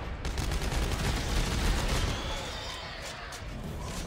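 Sustained rapid gunfire in the video game Dead Space 3, a dense continuous barrage of shots that stays loud throughout, close and heavy in the low end.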